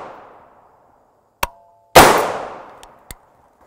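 Rifle firing 5.56x45mm M855 green-tip 62-grain FMJ ammunition at a range, a single loud, sharp crack that rings out and decays, set among a few fainter clicks and taps, with no speech.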